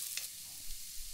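Garlic and ginger sautéing in a pan for dal khichdi, a faint, steady sizzle with a soft stir, heard alone and briefly.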